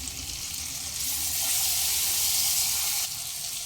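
Tomato being sautéed with spices in a pan for a vegetarian dal, producing a steady, fairly loud close-up sizzle that swells briefly in the middle without pause.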